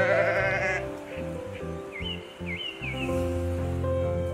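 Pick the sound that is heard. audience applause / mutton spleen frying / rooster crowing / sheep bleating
sheep bleating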